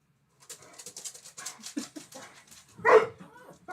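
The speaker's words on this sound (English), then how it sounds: "We don't need to bark." A dog barks once, loud and close, after a stretch of quieter whining and a voice shushing it indoors.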